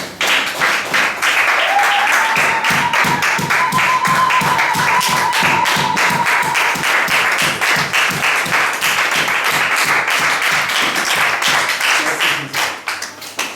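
A church congregation claps together in a steady, rhythmic beat throughout, loud and close, with a sustained vocal tone of acclamation and raised voices praising the Lord mixed into the clapping.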